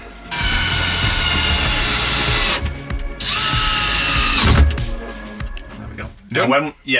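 A ratchet clicks rapidly and loudly in two long runs with a short pause between them, tightening a water system fitting back into its hole during a campervan build, followed by brief handling noises.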